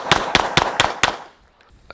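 A fast string of five evenly spaced gunshots at a shooting practice, fired at a target 10 yards away with a red dot sight, loud and close, then near silence with faint clinks.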